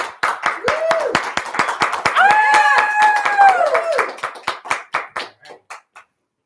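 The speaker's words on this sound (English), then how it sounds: "Audience, clap it up" A studio audience at a live show claps in scattered, sharp hits while voices sing or call out in long tones through the middle; the clapping thins out and stops near the end.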